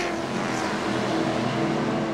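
Race cars roar along the main straightaway of the 1996 IMSA endurance Dallas Grand Prix, a continuous loud engine drone with lapped traffic passing, no voices heard.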